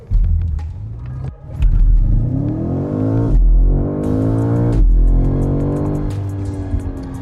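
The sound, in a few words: BMW M5 Touring V8 hybrid launch control acceleration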